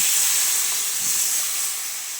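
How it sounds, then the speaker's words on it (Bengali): Loud steady steam and sizzle as water is poured into a pan of vegetables being cooked with spices, a continuous bright hiss with no talking. "এবার এর মধ্যে পরিমাণ মতো জল দিয়ে দিচ্ছি"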